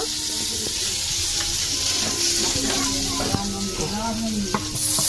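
Chicken and potatoes fry loudly in hot oil with a dense, continuous sizzle. Stirring clatters against the pot, and faint voices and background sounds mix in.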